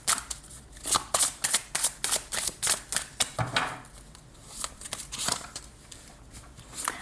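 Tarot cards are shuffled for a reading in quick, crisp riffling bursts, close up and rhythmic, then softer sliding and tapping of the deck.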